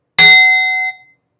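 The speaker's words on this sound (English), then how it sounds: "Look what happens if I grab the bowl while it's making vibrations." A singing bowl is struck with a bright metallic clang, and its clear tone sustains for well under a second before being cut off abruptly when the bowl is grabbed by hand, leaving a faint brief residue.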